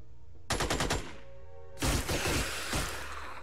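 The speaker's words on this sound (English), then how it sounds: "Our machine guns seem to have pretty good shots at them, so we'll just shoot with them again." Machine gun fire in the turn-based strategy game Xenonauts: two loud rapid bursts of rattling shots, the first about half a second long and the second longer, separated by a brief lull.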